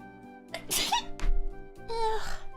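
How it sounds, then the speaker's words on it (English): A single sneeze from a woman, sharp and close, preceded by a brief inhale with a faint steady tone in the background. "I sneezed!"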